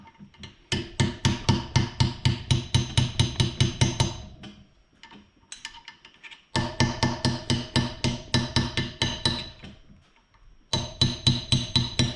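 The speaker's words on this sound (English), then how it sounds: "Use a hammer, don't hit your rotor." Rapid metallic hammer taps on lock tabs of a Kawasaki motorcycle front brake rotor, in quick bursts, loud and close, pausing briefly between runs of strikes.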